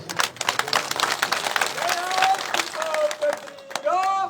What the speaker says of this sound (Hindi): 4 आदमी ने बजाई ताली।